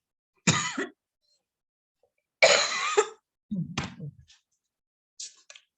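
Three harsh coughs in separate bursts with quiet gaps between, followed by a short faint fragment, close to the listener.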